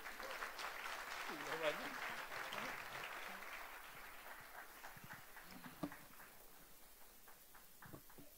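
Steady applause from a crowd fills the whole stretch, fading slightly toward the end, with a voice speaking briefly over it.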